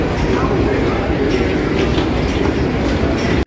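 Rumbling train noise inside a railway station, a loud continuous low roar of rolling stock with faint metallic clatter throughout.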